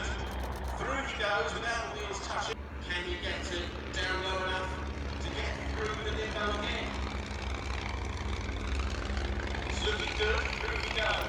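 Vintage propeller planes fly low beneath bunting at an evening airshow at Shuttleworth, a continuous engine drone running throughout under a voice.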